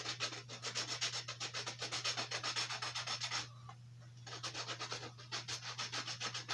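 Rhythmic back-and-forth rubbing of 40-grit sandpaper on carved wooden horses, quick even strokes with a brief pause partway, close and quiet, no talking.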